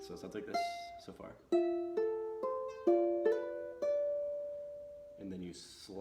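Solo ukulele picks out the opening phrase of Akaka Falls, single plucked notes and a hammered-on note stepping through a short melodic line, near and clear, ending on a sustained tone with brief string noise at the close.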